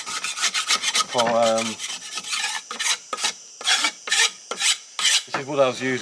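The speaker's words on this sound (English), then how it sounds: "we'll have to run some sandpaper across this" Sandpaper rasps back and forth across reused shuttering wood in a series of short, close scrubbing strokes, paused briefly between passes, with a couple of louder grinding sweeps standing out.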